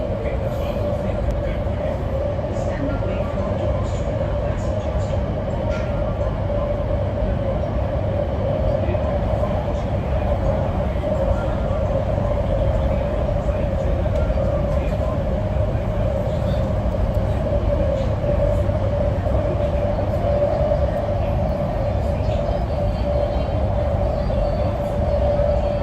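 A train rolls along rails in India, a steady loud rumble with a constant droning tone throughout, continuous and close, as if heard from inside a carriage.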